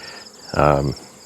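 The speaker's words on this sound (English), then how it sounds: "I saw a little clump of bees on the ground" A clump of honeybees on the ground makes a single loud, close burst of buzzing that swells for about half a second and then fades into a faint insect hum.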